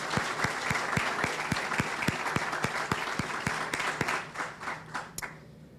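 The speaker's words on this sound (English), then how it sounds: "let's have a round of applause for Staff Sergeant Crawford and the Chaplain" At a power generating station commemoration ceremony, an audience claps for a staff sergeant and a chaplain, with several close, sharp hand claps standing out over the crowd's applause before it thins to a few last claps and stops.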